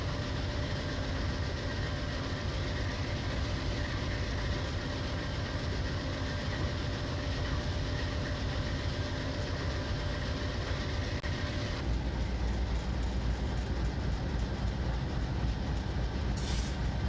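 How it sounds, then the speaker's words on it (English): A train in a simulator game rumbles along steadily with a dense, continuous roar of engine and rolling wheels, loud and unbroken for the whole stretch, with no voices. "Let's get this virtual train chugging along once more."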